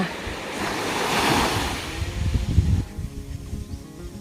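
Sea waves wash up on the sand at Khlong Nin beach on Koh Lanta, a steady nearby surf roar swelling and breaking, with some wind buffeting the microphone and no talk.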